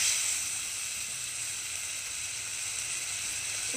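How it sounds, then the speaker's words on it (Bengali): Spice paste hitting a pan of frying katla fish and vegetables gives a steady, loud, close hiss of sizzling oil, continuous throughout with no talking. "আর এদিকে আমি যে মশলাটা আমি গুলে রেখেছিলাম তো সেই মশলাটাকে এখন এটার মধ্যে দিয়ে দিচ্ছি। এখন এটাকে আমি একটু কষিয়ে নেব"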